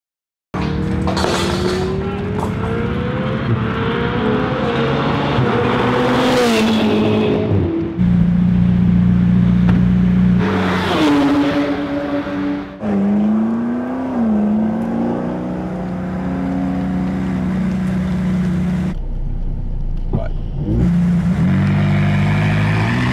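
A McLaren 675LT and a Porsche 4.0 RS racing on the Goodwood circuit, engines droning loud and close with rising and falling revs, gear changes and a sharp cut in power, under faint talk.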